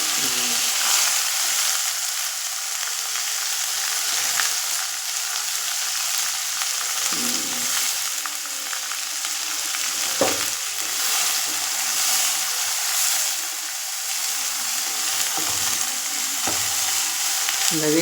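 Onion and ground paste sautéing in a pan, with a steady broadband sizzle and occasional scraping stirs over about eighteen seconds; no talking.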